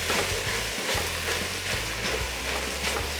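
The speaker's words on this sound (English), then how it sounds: "Just gonna neatly sprinkle through, just like this, and mix, mix, mix." Sugar and cornstarch are mixed for panna cotta in a steady, busy stirring and scraping with a faint hiss, heard close and without talk.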